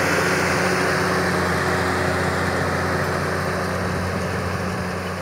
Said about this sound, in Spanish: Escuchen el motor